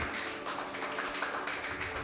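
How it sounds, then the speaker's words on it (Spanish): A church congregation applauds, with a dense, steady patter of many hands clapping at moderate volume, no voices over it. "Denle ese fuerte aplauso al Señor"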